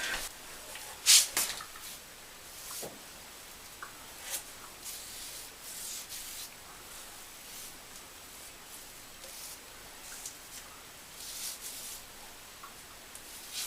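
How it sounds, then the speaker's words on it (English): Gloved hands smearing thick concrete veneer onto countertop edges, giving soft scattered rubbing and scraping strokes that are close and fairly quiet, with no voices. "just use these to grab the material and just kind of spread it onto the edges"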